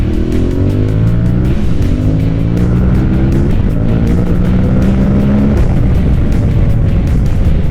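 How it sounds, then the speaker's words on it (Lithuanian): Motorcycle accelerating hard from low speed in first gear, a loud, close engine roar rising steadily in pitch through repeated revving surges, with heavy wind rumble throughout. "kaip šis motociklas traukia"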